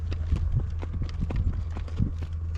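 A horse's hooves clip-clop at a steady walking rhythm, close by, over a constant low rumble.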